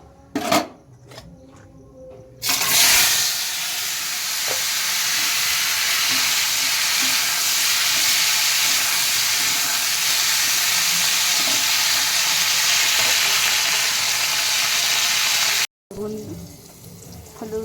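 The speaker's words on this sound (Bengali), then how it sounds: "কিছুটা বেগুন আমি ভাজছি, তো খিচুড়ির সঙ্গে একটু বেগুন ভাজা না হলে জমে না, তার জন্য বেগুন ভাজা হচ্ছে" Brinjal slices for khichuri fry in a pan in a home kitchen, a loud, steady hiss of sizzling oil that runs for over ten seconds after a few sharp clinks and clatters, then cuts off abruptly.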